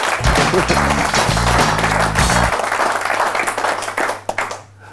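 A crowd applauds with steady, dense clapping while music plays underneath, the clapping thinning out and fading near the end.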